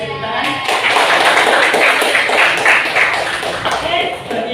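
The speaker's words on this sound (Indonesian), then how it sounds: "Oke, kasih tepuk tangan." A classroom of students applauding after a group presentation, a dense burst of many hands clapping together that lasts several seconds before fading.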